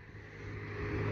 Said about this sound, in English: that is a normal car going past, right?